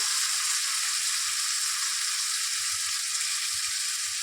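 Cauliflower and potato sautéing in a pan, a steady close sizzle with faint stirring scrapes underneath, no voices over it.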